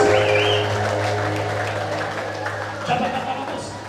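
A church conference crowd claps loudly and steadily, with high trilling ululation rising briefly over the continuous applause.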